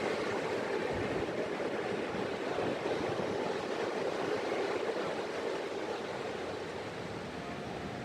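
Surf rolling onto the shore at Kuta beach, Bali, a steady broadband wash of breaking waves that stays loud and continuous throughout, with no clear pauses between sets.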